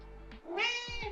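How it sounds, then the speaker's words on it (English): A cat meows twice in a home apartment, loud and close, with a long drawn-out harmonic cry after a brief pause, then short falling chirps at the end; no talking. "You want to meow?"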